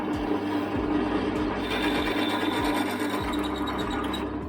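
A drill bores a hole with a 13mm bit, a steady close mechanical whir with a faint repeating ratcheting pulse and grinding under it, continuous and fairly loud, with no talk.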